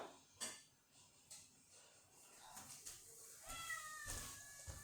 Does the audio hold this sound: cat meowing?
yes